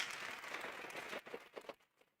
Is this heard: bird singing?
no